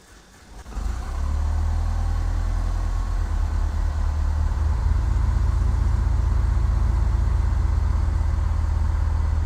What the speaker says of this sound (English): So we're going to turn on the engine.